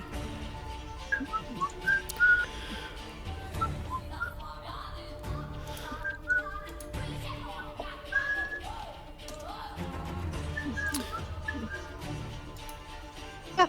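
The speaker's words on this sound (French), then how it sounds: "je me mets à siffler et je fais siffler en travaillant" A person whistles a meandering tune during a tabletop role-playing session, voicing a character who whistles at work. Short, faint whistled notes come and go over low room noise.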